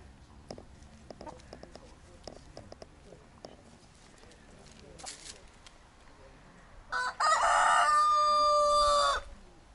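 In an orange grove in a Turkish village near Alanya, after several seconds of quiet rustling and small knocks, a rooster lets out a single loud, nearby crow lasting about two seconds.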